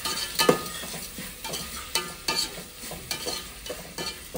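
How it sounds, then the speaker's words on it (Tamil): Tomatoes sauté in a pan for a country chicken curry, a soft frying sizzle broken by repeated scraping stirs of a spoon at an uneven pace, close by, with no talking. "கொஞ்ச நேரம் தக்காளி வதங்கட்டோம்பா."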